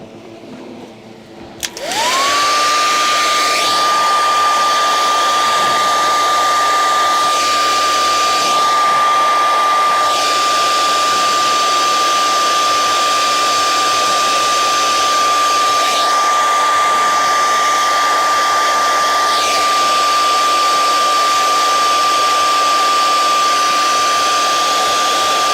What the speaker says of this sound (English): I'm going to hit this with a hairdryer.